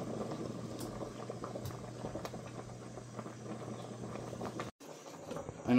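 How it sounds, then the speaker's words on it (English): A pot of rice boiling steadily on a stove while beef cooks in a pressure pot for a Guyanese stew lunch, giving a continuous close bubbling with no talk. "We got the rice boiling, the pressure pot for the beef."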